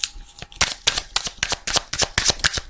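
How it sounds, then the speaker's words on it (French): Oracle cards being shuffled and drawn during a card reading, a quick run of crisp papery riffles and flicks, close and fairly loud, with no talking. "J'ai envie quand même de tirer une autre carte."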